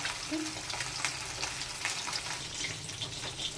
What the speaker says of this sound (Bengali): এবার তেলটা গরম হয়ে গেছে, মাছগুলো ভেজে নেব।